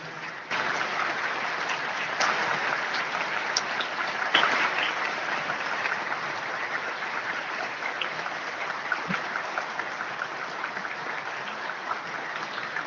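An audience at a comic convention talk applauds steadily for several seconds, a dense, even clatter of clapping hands that stays level before easing slightly.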